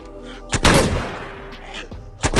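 Film gunfire as police shoot at a psychopath: two loud, sharp shots about two seconds apart, close and booming, with a short decaying rumble after the first.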